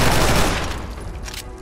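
A gun in the game Fallout 4 empties its magazine in one rapid, loud burst of overlapping shots that tails off over about a second and a half, with no talking.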